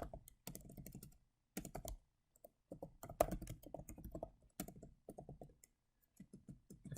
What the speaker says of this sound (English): if I can get this typed up